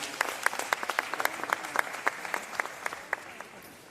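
Scattered applause from a small audience at the launch of Jamaica's national CCTV system, a few dozen distinct claps rising and tapering over four seconds, fairly faint and distant with no voices.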